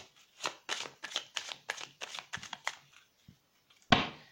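A deck of tarot cards being shuffled by hand, a quick run of crisp riffling slaps in a steady rhythm, then a pause and one sharp final snap as the deck is cut, close and without talk.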